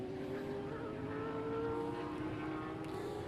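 A Ford Falcon V8 Supercar races on track, giving a continuous droning engine note with steady harmonic whine, fairly distant and even in level throughout.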